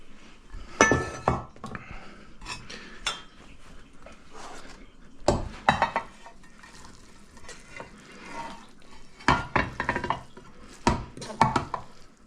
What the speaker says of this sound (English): I'm gonna pack it into my casserole dish now